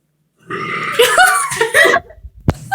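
A loud, drawn-out burp lasting well over a second, rising and falling with a gurgling, strained quality, followed by a short sharp click and faint background voices at a birthday gathering.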